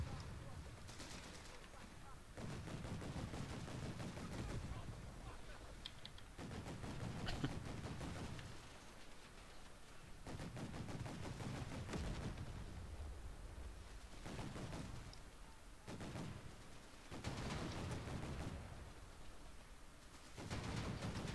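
Artillery and gunfire in the video game Company of Heroes 3: dense, continuous battle noise with repeated heavy bursts and rolling barrages, loud throughout and rising in waves every few seconds.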